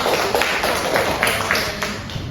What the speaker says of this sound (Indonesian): berikan tepuk tangan kepada Pak Wadah